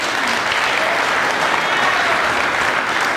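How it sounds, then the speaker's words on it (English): Applause from an audience at a political youth gathering, steady, even clapping throughout, dense and sustained with no break. "Please, let's give them a round of applause."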